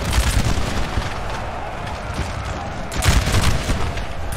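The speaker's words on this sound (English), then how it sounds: "When they fire, the bullets strike the ground because some of them miss." A continuous roar of musket volleys in the Napoleon Total War video game, with bullets striking the ground, dense crackling shots layered loud and close, swelling again near the end.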